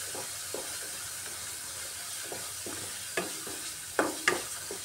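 Spice paste stir-fried with potatoes over a medium gas flame: a low steady sizzle broken by repeated spatula scrapes against the pan, getting sharper and louder toward the end.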